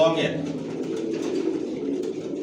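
Racing pigeons of one bloodline cooing steadily inside a loft, a close, continuous low murmur of overlapping coos, alone with no talk.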